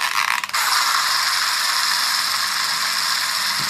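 A cheap toy's jammed clockwork mechanism being wound, giving a steady, close, dry ratcheting whir that runs without a break after a brief scuffle at the start.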